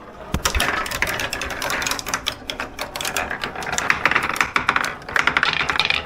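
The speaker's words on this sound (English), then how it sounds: "So let's roll some marbles." Marbles rolling and clattering across a tabletop football game board, a busy stream of close, rapid tapping and rattling clicks throughout with no talk.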